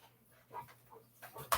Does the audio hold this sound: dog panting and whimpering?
yes